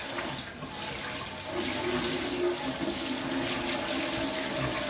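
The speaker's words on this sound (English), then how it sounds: "I'm just going to give it a good rinse." Tap water runs steadily into a stainless steel sink for a rinse, a continuous close splashing hiss with no pauses and no talking.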